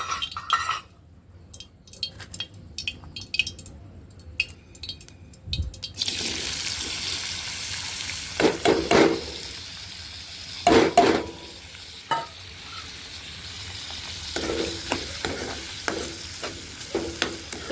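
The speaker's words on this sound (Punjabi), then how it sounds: "ਸਾਡਾ ਤੇਲ ਹੈ ਕਿ ਜਿਹੜਾ ਗਰਮ ਹੋ ਗਿਆ ਹੁਣ ਅਸੀਂ ਇਹਨੂੰ ਭੁੰਨ ਲਾਂਗੇ" Dried red chillies and chopped green chillies fry in hot oil for a village-style Punjabi kadhi, giving a steady close sizzle with louder bursts of crackling and occasional stirring clinks, with no talk.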